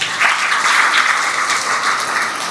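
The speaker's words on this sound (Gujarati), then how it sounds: "જોરદાર તાળી થઈ જાય" Loud, dense applause from an audience at a natural farming workshop, steady clapping from start to finish without a break.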